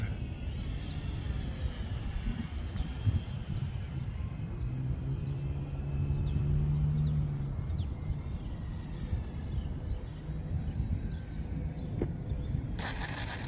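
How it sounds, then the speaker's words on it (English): A large, floaty radio-controlled model airplane circles around to come in for a landing, its steady motor drone holding at moderate distance under outdoor wind noise and a few faint bird chirps. "let me bring her around for a landing"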